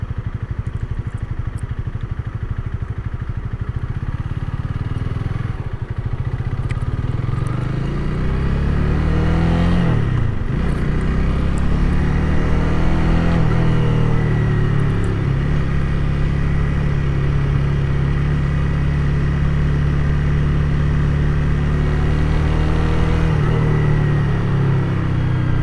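A Honda Rebel 300 motorcycle rides through traffic, its steady mid-pitched engine droning close and loud throughout, with gear-change dips and rising revs around the middle and a constant rumble of road and wind.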